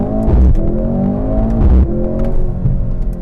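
2024 Mercedes-Benz C63 AMG accelerating hard from the cabin, a loud engine climbing through gears with sharp dips at each shift and rising pitch between them.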